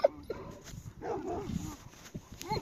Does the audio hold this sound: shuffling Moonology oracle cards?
no